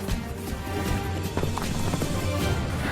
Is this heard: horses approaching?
yes